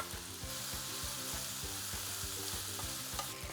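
Potatoes and peppers hit a hot pan and sizzle close up, a continuous crackling fry with a regular series of clicks running through it and no one speaking.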